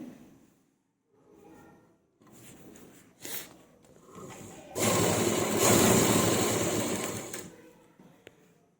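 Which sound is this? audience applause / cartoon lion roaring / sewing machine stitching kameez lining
sewing machine stitching kameez lining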